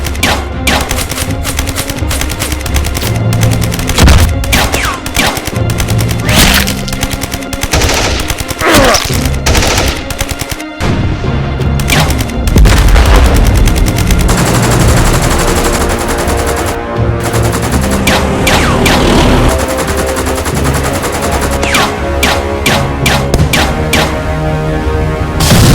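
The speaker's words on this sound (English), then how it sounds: "Neutralize that machine gun." Machine guns rattle throughout a Lego World War 3 siege battle animation, loud rapid bursts and single cracks layered over a constant roar of combat.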